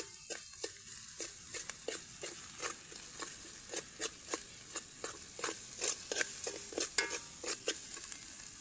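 Masala for a crab and fish curry sizzles in oil over a wood-fired stove outdoors, with a steady frying hiss punctuated by a run of quick scraping stirs, close and fairly quiet.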